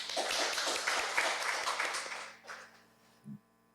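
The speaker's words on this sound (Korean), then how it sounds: "나오실 때 큰 박수로 맞이해 주시기 바랍니다" An indoor audience at a prayer gathering claps to welcome a speaker, a dense burst of applause that thins and fades out after about two and a half seconds, followed by a single low thump.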